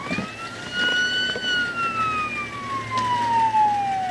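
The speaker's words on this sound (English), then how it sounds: "Shut your siren off." A police car siren wails nearby, a single rising then slowly falling tone sweeping down over several seconds, with engine rumble and brief background noise beneath it.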